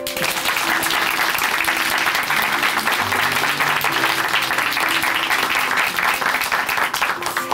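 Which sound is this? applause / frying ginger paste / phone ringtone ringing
applause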